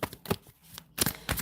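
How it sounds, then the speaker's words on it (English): A deck of tarot-style cards being shuffled, with several soft riffling bursts and papery flutters in short clusters, fairly quiet and close, with no talking. "I'm going to shuffle you one of these cards"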